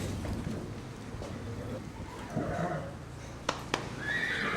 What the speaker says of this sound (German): Kümmere dich um das Pferd.